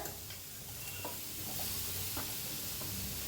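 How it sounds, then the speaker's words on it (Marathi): Onion and tomato sizzling softly in a pan as they are stirred, a quiet steady frying hiss with occasional light scraping ticks of the spoon, no talking. "कांदा हलकासा भाजत आलेला आहे, त्याच्यातच टाकूया टमाटर"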